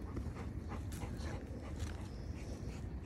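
A big Rottweiler whimpers and pants outdoors in a neighborhood at night, with soft, steady breathy sounds and faint whines close by over a noisy background.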